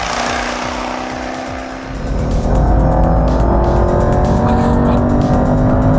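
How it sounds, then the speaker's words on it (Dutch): A Jaguar supercharged V8 roars loudly and steadily, its deep drone swelling after a short lower-pitched stretch and holding a full, sustained growl to the end. "als je die V8 Supercharged van Jaguar dan zo hoort brullen"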